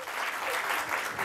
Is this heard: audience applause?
yes